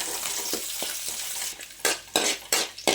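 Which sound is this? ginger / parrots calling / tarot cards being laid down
ginger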